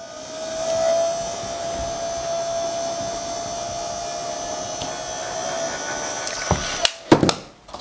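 A heat gun blows hot air onto a Kydex holster with a steady, whooshing hiss that holds for several seconds, followed by a few sharp handling clicks and knocks at the end.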